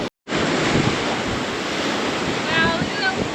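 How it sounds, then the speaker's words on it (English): Ocean waves crash and wash onto a beach at high tide, a steady loud roar of surf with wind buffeting the microphone, heard close and continuous. "Made it through the forest and onto the beach, and it's a high tide"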